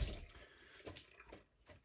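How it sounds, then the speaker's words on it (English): Water running from a tap while hands are wetted before handling sourdough, a soft steady splashing wash with a few brief spattering bursts, close and fairly quiet. "Okay, so wet the hands first of all."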